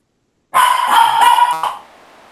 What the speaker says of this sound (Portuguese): passa um vento lá fora, eles estão latindo aqui dentro